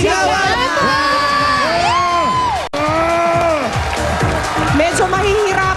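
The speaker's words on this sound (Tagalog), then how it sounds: "Palakpakan na May kasamang sigawan" A lively studio audience at a Filipino TV contest applauds loudly while shouting and whooping, with many overlapping voices cheering throughout.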